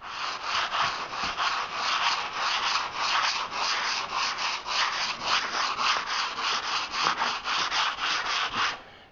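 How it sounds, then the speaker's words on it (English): Hand sanding of dried drywall joint compound to knock down high spots, a close, rhythmic scratchy rasp of quick back-and-forth strokes with no pauses and no voices. "we'll go through the room here, knocking off all the high spots, and then we'll give her a gentle sand"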